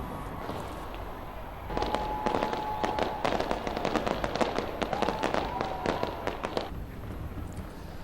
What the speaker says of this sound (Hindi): न्यूजीलैंड के ऑकलैंड की ये तस्वीर है जहां पर आप देख सकते हैं 2020 का शानदार आगाज हुआ है, आतिशबाजी हुई